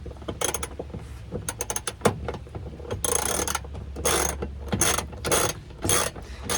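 A hand ratchet clicks steadily while working loose a tight seatbelt anchor bolt inside a Honda Civic, with fast metallic ticking in bursts and a few louder grinding pulls, close up and with no talking.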